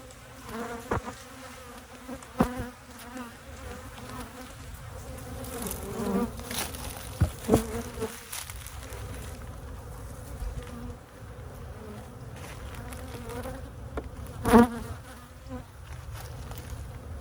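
Honey bees buzz densely around an opened backyard hive, a continuous swarming drone close by with occasional louder passes near the microphone.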